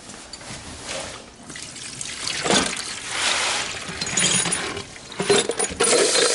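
Water runs from a sink faucet over cold brew coffee unit faucet parts being rinsed, an uneven splashing and trickling with metallic clinks and bursts as the parts are handled under the stream, fairly close, with no talking.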